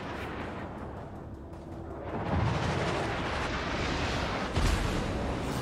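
Heavy naval guns booming in World of Warships, with a battleship firing at maximum range; broadband roars rise around two seconds and again near four and a half seconds over a constant rumbling battle bed, with no talk.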